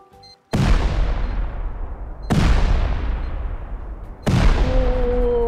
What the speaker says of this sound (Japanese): じゃあ C4 を3つ爆破させてみたらどうなるか試してみます。